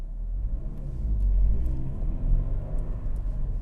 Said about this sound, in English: If you want to take off faster, you're going to have to give it more gas